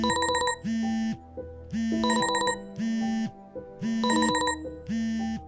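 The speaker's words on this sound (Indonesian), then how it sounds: "Alarm berbunyi." An electronic alarm rings loud and close in a repeating pattern: bursts of rapid high trilling beeps alternate with steady two-tone buzzing tones, cycling several times with no voices.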